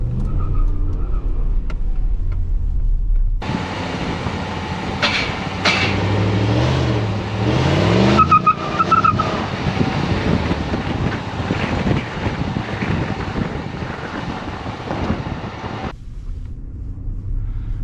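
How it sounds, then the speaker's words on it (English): A Ram 1500 Classic pickup truck rolls over rough terrain, a continuous close engine and tyre rumble with bumps and rattles, steady and fairly loud for about twelve seconds between quieter stretches. "let's take a look at our suspension because this is a rough terrain almost"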